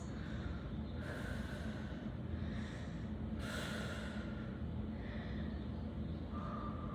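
Steady breathing through a held hip and thigh stretch during a workout, with several long, audible breath cycles rising and fading over a constant background hiss.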